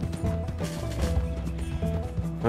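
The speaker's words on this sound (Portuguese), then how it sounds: "Quando ele fica assim fungando, é porque ele tá sobrecarregado." Horse galloping in Red Dead Redemption 2, with steady clip-clop hoofbeats and snorting whinnies over a constant game music and ambience bed, loud and close throughout.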